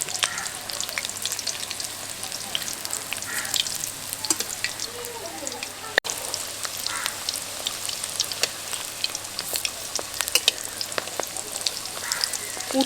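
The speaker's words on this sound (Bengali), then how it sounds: "একটা দিক খুব ভালোভাবে ভাজা হয়ে গেছে, এবার উল্টে দিয়ে অন্য দিকটা ভেজে নেব।" Stuffed teasel gourd (kakrol) fries in oil with a steady close crackling sizzle and scattered pops, one brief knock partway through, and no talk.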